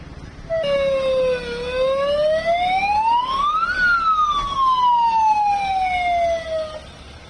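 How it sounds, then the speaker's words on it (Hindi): Air raid warning siren sounding over Chandigarh, a loud wailing tone that climbs steadily to a peak and then slowly falls, heard alone with no talk. "जैसे ही सायरन की आवाज सुनाई देती है, अपने घरों के अंदर चले जाएं।"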